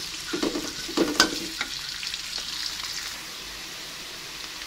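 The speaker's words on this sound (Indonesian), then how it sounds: "Kita tumis bawang putih dan bawang merahnya sampai agak layu ya" Garlic and shallots sauté in a frying pan with a steady close sizzle and crackle, punctuated by a few scraping stirs early on, then settling into an even hiss with no talking.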